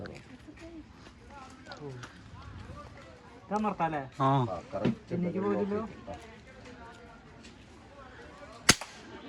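Excited voices talk at a busy shooting stall near Edakkal Caves, Wayanad, then a single sharp crack from a toy gun rings out near the end.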